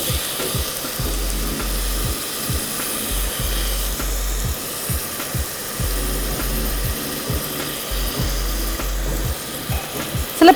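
Soaked raw rice tipped into onions frying in a pan for spicy biryani gives a steady sizzle, with repeated scraping and stirring strokes in a regular rhythm close by, and no talking.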